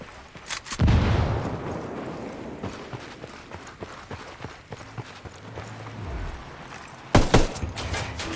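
Grenade explosions in the video game Ghost Recon Wildlands, two loud booming blasts, one near the start and another near the end, with scattered gunfire and game noise between them.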